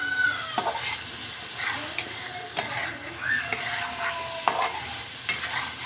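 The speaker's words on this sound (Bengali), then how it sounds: "মশলাটা কষানো শেষ, এখন মাছ দিয়ে দিব।" Hilsa fish goes into a spice paste frying in a pan, giving a low crackling sizzle broken by scattered stirring scrapes and clinks from a nearby spoon.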